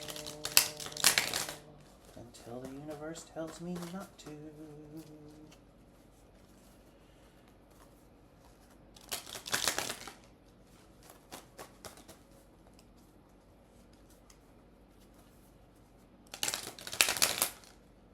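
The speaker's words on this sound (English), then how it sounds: "We're just going to keep shuffling." Three bursts of tarot cards being riffle-shuffled, crisp and close, separated by quiet gaps, with a short stretch of someone speaking softly between them.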